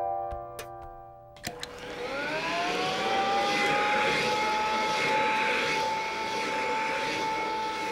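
A cartoon vacuum cleaner starts up after a couple of clicks, its motor whine rising into a steady, loud drone that runs on without stopping.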